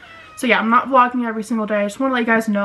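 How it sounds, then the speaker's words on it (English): Oliver the cat meows repeatedly and close by, in a run of drawn-out tonal cries that overlap with a person talking. "That's my cat if you hear constant meowing."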